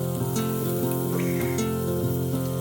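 Steak frying on a grill at a camp dinner, a loud, close, continuous sizzle with a steady hum beneath and a few brief scraping clinks, no voices.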